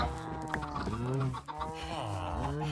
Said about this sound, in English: Oh, look, here comes a chicken.